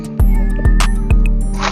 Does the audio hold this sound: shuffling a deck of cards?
no